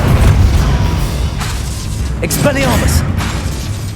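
Spell blasts in the video game Hogwarts Legacy go off as heavy booms and bursts, a loud low rumble opening into sharp crackling impacts, with voices shouting incantations between the explosions.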